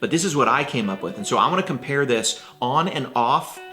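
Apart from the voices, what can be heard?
No everyday noise stands out behind the speech.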